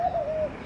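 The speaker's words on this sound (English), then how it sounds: "A few different like pigeons." A pigeon or dove gives a single soft, close coo, a short smooth call that slides gently in pitch, in a bird enclosure warmed by a heat lamp.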